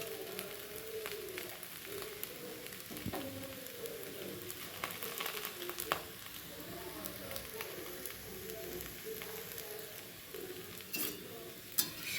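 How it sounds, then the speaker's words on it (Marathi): A fasting dosa roasts in a pan, giving a soft, steady sizzle with occasional light scrapes and clicks of a utensil, faint and close, while a person talks over it. "तर दुसरी साईड छान भाजून घ्यायची"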